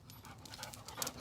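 An English Springer Spaniel pants close by in quick, rhythmic breaths, soft and fairly quiet, with no talking over it.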